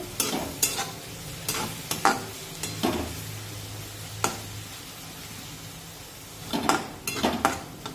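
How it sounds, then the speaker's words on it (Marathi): Onion stirred in a pan over a village-style brinjal curry base, steady low sizzling with repeated scraping strokes of a spatula at irregular intervals, close and moderately quiet. "एकसारखा हा कांदा हलवून घ्यायचा म्हणजे तो सगळीकडून एकसारखा भाजला जातो"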